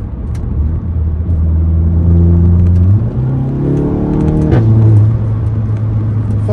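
Volkswagen car engine with stock exhaust, revving steadily and climbing in pitch as paddle-shift downshifts blip the throttle, loud and close with no talking.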